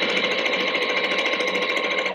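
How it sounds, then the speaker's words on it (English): A straight-stitch-only sewing machine quilting fabric with grey 50-weight thread, a fast, steady mechanical chatter of the needle running continuously at close range without talk. "Since my machine is straight stitch only, I'm just going to do straight lines."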